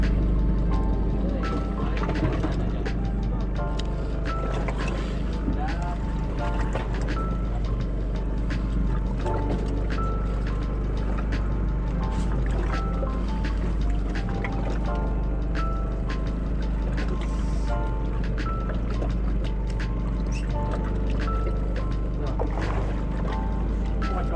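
Fishing boat manoeuvring at sea, its engine a steady low drone throughout with water sloshing around the hull and intermittent voices over it.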